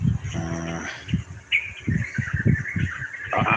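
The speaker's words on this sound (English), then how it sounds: "I've got this beautiful bird here." A bird calls close by outdoors: several short chirps and a steady run of clear, higher whistled notes, loud and near, with no one speaking.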